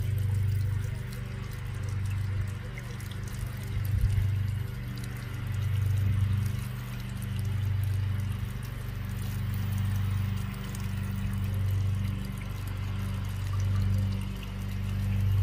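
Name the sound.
garden waterfall flowing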